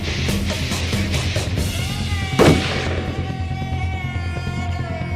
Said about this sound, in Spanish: Un disparo, pero no uno cualquiera.